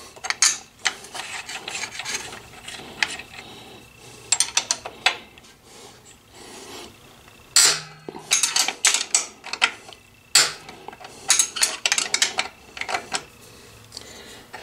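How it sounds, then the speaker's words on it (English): A ratchet wrench clicks in quick, uneven bursts while loosening bolts on a Honda Africa Twin CRF1000L motorcycle, with short rasping runs separated by pauses and one sharp louder burst midway. "I'll use a ratchet wrench on one side and a box 10 14mm on the other side"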